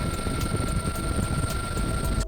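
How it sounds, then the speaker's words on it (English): A Boeing MH-139 multi-mission medium-lift military helicopter, a modified AW139, drones with a steady, loud rotor thump and engine whine that continues without pause, then cuts off abruptly at the end. "Boeing MH-139. Multi-mission medium-lift military helicopter."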